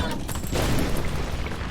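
A dense, rumbling burst of explosions rolls on continuously, loud and booming like video game blasts from enemies exploding on death in The Witcher 2, with no voices.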